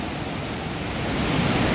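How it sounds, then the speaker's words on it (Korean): Rushing rapids of a valley stream near the Mekong River make a close, loud, continuous wash of churning water that builds slightly toward the end, with no talking. "이거는 폭포라기보다는 급류"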